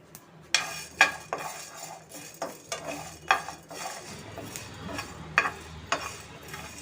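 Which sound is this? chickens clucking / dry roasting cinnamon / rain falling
dry roasting cinnamon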